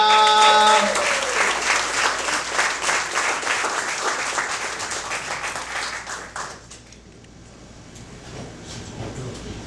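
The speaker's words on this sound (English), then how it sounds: "please give it up for Mr. Oscar Pena" Audience at a poetry slam clapping and cheering for the next poet, loud dense applause at the start that gradually thins and fades over several seconds.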